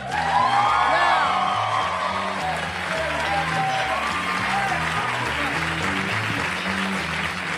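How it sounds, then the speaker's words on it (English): A comedy club audience applauds and cheers for a stand-up comic, a dense, loud wash of clapping with whoops, while a thumping music bed plays underneath throughout. "a big, rousing round of applause for Mr. Pat McGann"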